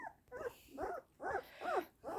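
A dog gives a run of five or six whining, yelping barks in a steady rhythm, close and fairly loud, with short pauses between them and no talk.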